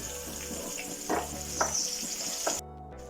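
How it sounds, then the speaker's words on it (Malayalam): Ground tomato and onion paste fries in a pan for spiced dal, giving a steady close sizzle with a few louder bursts of spatter and stirring before it cuts off abruptly near the end. "ഇതിലേക്ക് തക്കാളിയും സവാളയും അരച്ചത് നമുക്ക് ഇട്ട് കൊടുക്കാം. നന്നായിട്ട് മൂപ്പിച്ചെടുക്കാം."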